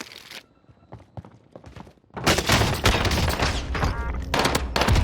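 Dense bursts of rapid gunfire in Call of Duty on Rebirth Island (Fortune's Keep map): sparse shots first, then a loud sustained volley of overlapping automatic fire with brief pauses.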